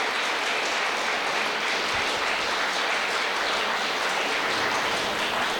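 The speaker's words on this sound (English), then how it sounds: "So let's give a big round of applause for Eli." Dense, steady applause from an audience at a Democratic club meeting fills the room, loud and continuous with no voices standing out over the clapping.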